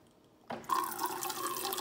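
Water suddenly starts pouring into a container and keeps running in a steady, faint, bubbling stream after a short quiet moment.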